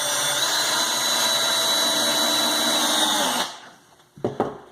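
A Porter Cable 20v cordless drill whines loud and steady while driving a screw into wood for about three seconds, then stops, followed by a few short knocks and clatters.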